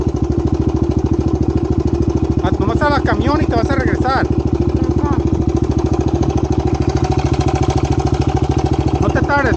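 A red motorcycle engine runs loudly and steadily throughout, its rapid, even pulsing unbroken from start to finish, while someone talks in Spanish over it.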